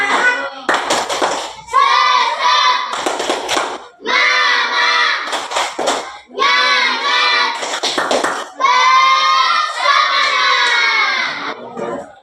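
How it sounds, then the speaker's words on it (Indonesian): A classroom of children performs a rhythmic spirit clap, loud and close, with bursts of sharp hand claps alternating with long chanted group shouts in a steady pattern. "Tepuk semangat dulu"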